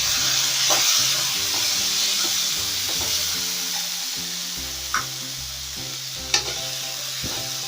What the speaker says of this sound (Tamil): டொமேட்டோவும் நல்லா ஃப்ரை ஆகணும்.